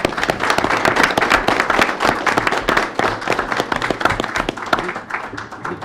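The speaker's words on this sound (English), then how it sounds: "let's give our Pulaski County Maroons this year a big round of applause" Crowd at a county fiscal court meeting gives a round of applause for a local high school team, steady dense clapping from many people in an indoor room, sustained at even loudness throughout.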